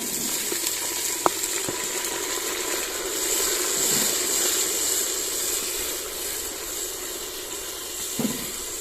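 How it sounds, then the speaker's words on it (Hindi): Onions with ginger garlic paste fry in a pan, a steady close sizzle and hiss with a few faint clinks of stirring and no talking. "इसको थोड़ा भूनेंगे।"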